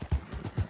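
A horse in Red Dead Redemption II clip-clops in a quick, brief run of hoofbeats with a faint neigh, close and moderately loud, without speech.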